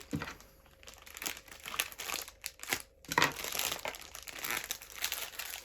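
Dense plastic parcel bag crinkling and rustling up close while a lost Ukrposhta parcel is unboxed, with continuous crackly handling and several sharper bursts throughout and no talking.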